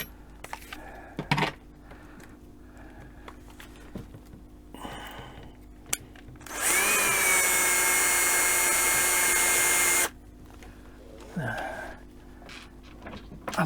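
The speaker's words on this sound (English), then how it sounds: "I'm going to drill the rest of the holes, or at least one more, so it'll stay put." A power drill fitted with a small bit bores into wood for shelf supports, a single sustained whine lasting about three seconds amid quieter handling clatter before and after.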